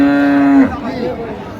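A cow at the Raniganj cattle market, where cows are sold with their calves, gives one loud, close, drawn-out moo that fades into a low murmur of crowd chatter.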